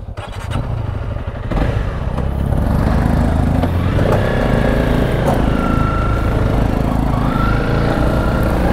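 A Honda CRF 300 Rally motorcycle engine heard from the rider's position, a loud continuous buzzing drone that rises as the bike pulls away and keeps going under wind noise.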